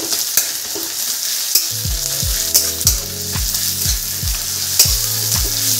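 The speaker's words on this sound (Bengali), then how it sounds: "তো এরপরে যেটা দেওয়া হবে সেটা হলো আদা রসুনের পেস্ট, আর সঙ্গে যাবে জিরা" Onion frying with ginger-garlic paste and cumin in a pan, a steady sizzle under repeated stirring strokes that scrape and thump at a regular pace, fairly close, with no talking.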